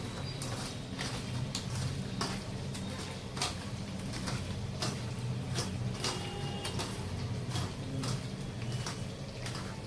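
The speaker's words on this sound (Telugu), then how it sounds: "ఇక్కడైతే నేను కలిపేసుకుంటున్నాను." Drumstick chicken curry stirred and mixed in a pan, a series of irregular scraping clicks and taps of the spoon against the pan over a low steady background, close, no talking.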